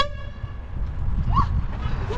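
A vehicle horn toots once at the very start on a street in Chișinău, Moldova, its tone fading quickly into traffic rumble and a brief chirpy sound.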